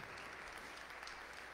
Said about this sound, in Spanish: Y damos otro fuerte aplauso.